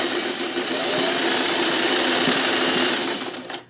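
A sewing machine runs steadily, stitching fabric at regular speed in a continuous motor whir with fine rapid needle rhythm, close and loud, before stopping near the end.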